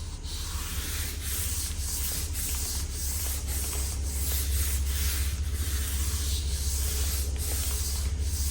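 A soft pastel drawing of Uluru being sprayed with fixative over the ground area, a steady close hiss with faint rubbing texture and a constant low hum, no talking.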